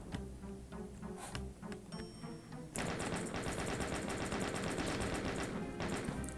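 Doom 2 chaingun fire in a rapid, steady mechanical stutter, loud and continuous, getting denser and heavier partway through, with no voices over it.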